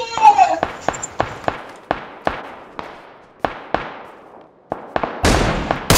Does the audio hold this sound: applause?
no